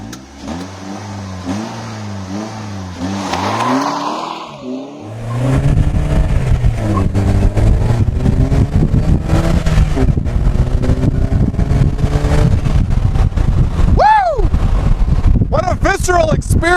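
A Polaris Slingshot is driven off and accelerates, its engine rising through revs under loud, rushing wind noise, after a quieter idle and rev at the start; someone talks over the drive.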